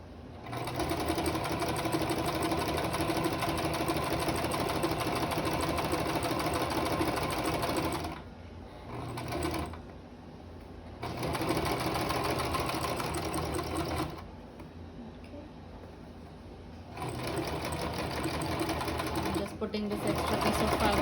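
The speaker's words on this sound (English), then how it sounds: "And we will be sewing it not all the way, we'll leave an inch opening here." A sewing machine stitches fabric for a mask in rapid, loud bursts of whirring, stopping briefly twice and resuming, with a voice speaking during the pauses.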